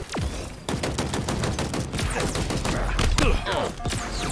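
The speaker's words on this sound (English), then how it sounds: "We're gonna pop somebody with this plasma pistol." Plasma pistol fire in Halo Infinite amid a chaotic firefight: rapid, sharp repeated shots in quick bursts with crackling impacts and mechanical clatter, loud and close throughout.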